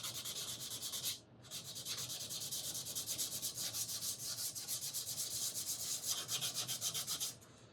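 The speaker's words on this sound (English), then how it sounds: "And then just a piece of sandpaper." A piece of sandpaper rubs a wooden steel-string guitar neck in quick, even back-and-forth strokes. The sanding is close and steady, with one brief pause near the start and no speech.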